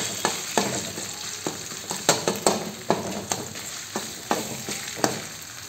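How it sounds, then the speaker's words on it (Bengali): Vegetables frying with chopped green chili and ginger-chili paste in a pan, a steady close sizzle with regular spoon scrapes and taps roughly every half second, and no talk. "এখন এই যে লঙ্কা কুচি আর আদা লঙ্কা বাটা দিয়ে দেবো"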